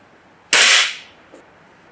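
A Gamo Wildcat .22 air rifle fires a Hornet pellet in a single sharp, loud crack that decays quickly, followed by a faint impact tick from downrange.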